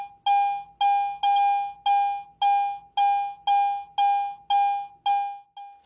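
A Garrett AT Pro metal detector beeping over a coin passed beneath its search coil, giving eleven identical clear tonal beeps at an even, steady pace, loud and close, with no talking.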